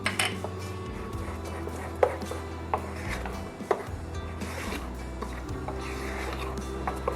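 A spoon scrapes and clinks in a bowl while salt is stirred into moong dal chutney, with rhythmic rubbing strokes and a couple of sharper knocks over a low background hum.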